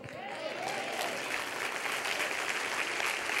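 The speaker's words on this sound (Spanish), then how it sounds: "quiero un aplauso enorme cuando termine" A church congregation breaks into applause during a sermon, a continuous wash of clapping heard at moderate distance with a brief voice early on.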